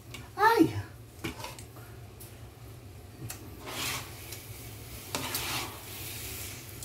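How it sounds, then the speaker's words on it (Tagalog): A spoon scraping and stirring thick biko, sweet sticky rice cooked with coconut milk, in a pan. Soft, intermittent rubbing and rasping strokes sit under a faint background hum while a voice is heard nearby. "Ano na to, magto 20 minutes ko na hinahalo."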